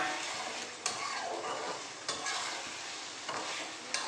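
Fried baby potatoes go into a cooked-down spice masala for aloo dum and get stirred in the pan, a constant soft sizzle broken by a few sharp scrapes and knocks of the spoon against the pan.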